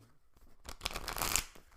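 A short, close burst of tarot cards being shuffled, a quick riffling flutter after a quiet start.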